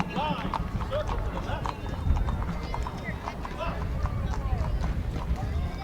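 Horses' hooves clip-clop steadily along a street in a hometown parade honoring heroes, ridden by members of a war horse group in military dress, with a crowd and announcers talking throughout and a whinny now and then.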